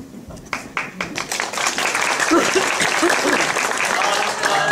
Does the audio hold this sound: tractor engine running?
no